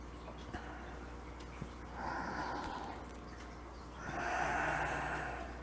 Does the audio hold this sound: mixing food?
no